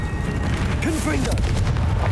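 Confringo blasting spell in Hogwarts Legacy going off with booming, crackling blasts during a busy fight, heavy low rumble throughout and a short voice-like sweep in the middle.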